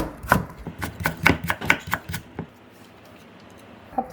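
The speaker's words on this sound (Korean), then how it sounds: "잡채에 들어갈 야채 썰어 보겠습니다" A kitchen knife cuts vegetables into medium strips for japchae on a cutting board, about a dozen crisp close chops in quick succession, then a pause and one last chop.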